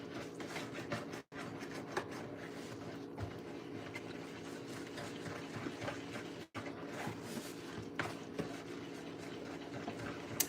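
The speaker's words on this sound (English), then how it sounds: "we're just going to mix up our cornmeal, our cornbread mix with our whisk" A whisk stirring dry cornbread mix and cornmeal in a bowl, a continuous rapid scraping and clicking texture close up, broken by two brief silent gaps, no speech.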